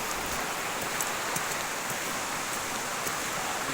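Rainwater dripping and pattering down from above on a misty mountain in Pangasinan, a soft steady hiss of drops with a few brighter taps, faint and continuous with no voices.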